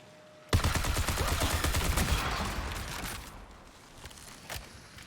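Turret gunfire in the sci-fi shooter game Marathon erupts suddenly and loud as a dense, continuous burst of rapid shots, then fades over several seconds into scattered, weaker reports.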